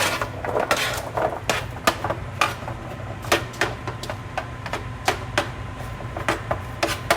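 Butternut squash tossed with oil, salt and pepper in a bowl, a quick irregular series of close clinks and taps of utensil against the bowl, with no talk.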